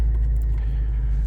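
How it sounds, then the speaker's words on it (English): Supercharged Mercedes AMG V8 rumbles deep and loud at idle right after starting. "it's got quite an aggressive AMG sound from that supercharger V8"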